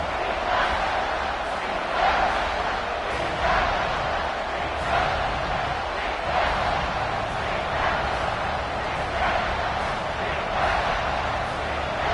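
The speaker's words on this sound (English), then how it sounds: "the crowd coming to life here, trying to help this defense down in the red zone" A football stadium crowd roars in a dense, continuous wash during a defensive stand in the red zone, steady and loud with rhythmic swells of cheering, and a commentator talks over it.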